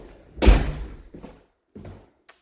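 A single loud door slam inside a house, a sharp heavy impact followed by a short rattle, then a couple of softer thuds from the same door and a faint click at the end.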